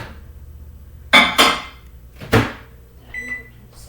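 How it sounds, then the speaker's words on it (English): A kitchen microwave oven is used to melt butter for a gluten-free cake, with sharp door clunks and button beeps followed by a faint electronic tone, brief and close. "I'm gonna melt it in the microwave for a little while."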